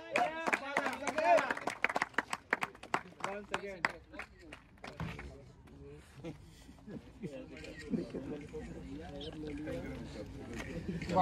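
Scattered audience clapping at a cricket tournament awards ceremony at Ivano-Frankivsk National Medical University, sharp claps mixed with someone talking, thinning out after a few seconds as the talk continues.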